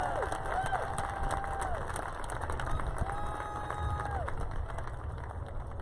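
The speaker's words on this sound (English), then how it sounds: "Please, a round of applause and a standing ovation." A graduation ceremony crowd claps and cheers in a steady, even wash of applause that sounds like a standing ovation, with whooping tones rising over the clapping throughout.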